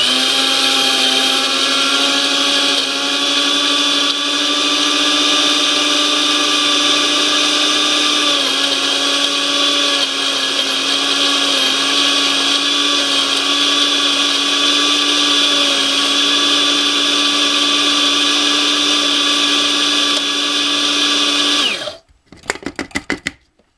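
A food processor whizzes a homemade sausage mixture in one steady, loud motor whine with a constant pitch for about twenty seconds, then it cuts off abruptly and a few short clatters follow.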